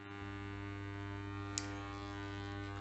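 Ultrasonic bath running with liquid inside, a steady electrical hum and buzz with constant tonal drone throughout, one brief faint click midway.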